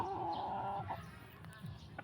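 Six-week-old chickens cluck softly in a low murmur over steady background noise, with a brief higher call at the start.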